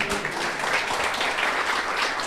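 Church congregation applauding during a sermon, a dense, steady roar of clapping filling the space without letup, close and fairly loud.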